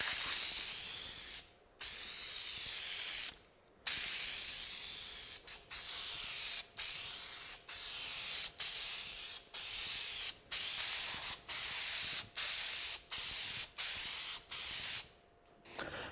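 Aerosol adhesion primer sprayed onto truck quick covers for a 2009-2014 Ford F150 crew cab, a close, loud hissing spray in about a dozen long bursts separated by brief pauses.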